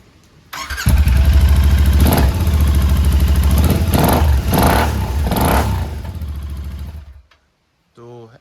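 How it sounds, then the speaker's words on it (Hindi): A Royal Enfield GT 650 motorcycle with a new exhaust and dB killer fitted starts up close by, settles into a loud throbbing idle with several throttle blips, then shuts off abruptly. "अभी हम विद डीबी किलर साउंड सुनते हैं।"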